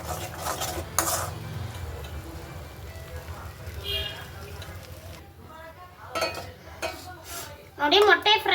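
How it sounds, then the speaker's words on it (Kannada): Egg fries in a pan with salt and pepper powder while a spatula clinks and scrapes against the metal; soft sizzling under talk, with a burst of bright clatter near the end. "ಇದು ಮೊಟ್ಟೆನ ಫ್ರೈ ಮಾಡಿ ಸೈಡ್ಗೆ ಎತ್ತಿಕ್ಕೋಬೇಕು."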